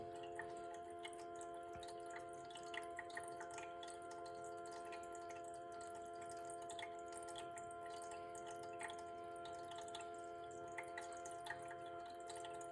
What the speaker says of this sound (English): And there comes the water.